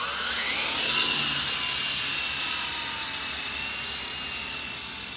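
A SYMA Chinook toy remote-control helicopter flies with a sustained high-pitched electric whine from its rotors, swelling early and then holding steady at a slightly lower level, with no voices.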